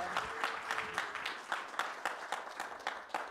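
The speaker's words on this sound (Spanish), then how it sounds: "yo pido un fuerte aplauso a mi Hacha equipo, a todo el equipo del Museo Nacional de Etnografía y Folclore" Applause for the team of Bolivia's National Museum of Ethnography and Folklore at a panel session, a steady wash of clapping from an audience with sharper individual claps standing out, fairly close and continuing throughout.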